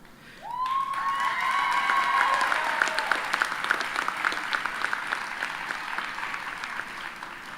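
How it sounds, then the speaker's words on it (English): At a spring nursing pinning ceremony, an audience bursts into warm applause with light cheering, the clapping swelling quickly and holding steady; a brief tonal squeal is heard at the onset. "Thank you for the applause."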